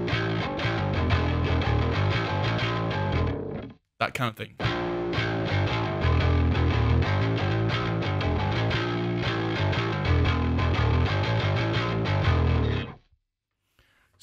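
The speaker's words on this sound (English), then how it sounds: "I'm using Amplitube SVX with a bass amp and a guitar amp together" Heavy distorted metal riff on bass played through Amplitube SVX with a bass amp and guitar amp blended plus a noise gate, loud and dense with chugging power chords, a brief gated cut near the start, ending in silence before a short spoken remark.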